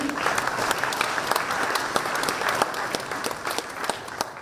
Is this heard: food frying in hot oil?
no